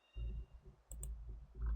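Computer mouse clicks during a Project Zomboid session, a few sharp, close clicks spaced irregularly over a low background hum, with no speech.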